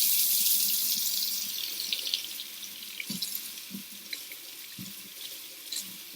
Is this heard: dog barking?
no